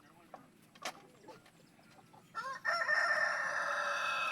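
Rooster calling hens over to a feed of bananas among a flock of chickens, a few soft clucks and chirps followed by a loud, drawn-out call that holds steady near the end, nearby and without talk.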